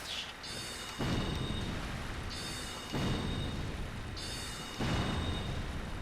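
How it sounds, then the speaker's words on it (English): Sudden rain with rolling thunder in Dark Souls, a steady hiss of downpour with low rumbling swells that come back about every two seconds, moderately loud and with no talk. "Man, it's a sudden flash rain."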